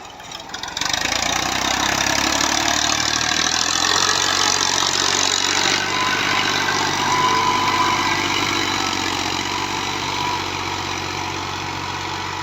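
A Ghazi tractor engine runs steadily out in a cotton field, a loud, continuous low rumble that holds for the whole stretch with no talk over it.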